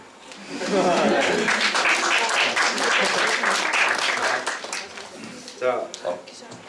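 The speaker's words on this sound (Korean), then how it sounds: "열심히 준비한 발표자와 고육생분들에게 많은 격려의 박수를" A room of students and guests claps in encouragement for presenters at a multicultural-awareness idea festival, a full burst of applause that swells quickly, holds, then thins out as a few voices come in near the end.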